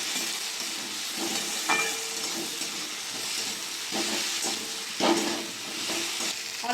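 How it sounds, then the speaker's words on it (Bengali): Spice paste of turmeric, Kashmiri chilli powder, chopped tomato and green chilli frying in a pan, with a loud steady sizzle broken by the scrape and clatter of stirring. "ভালো করে মশলাটা কষিয়ে নেব"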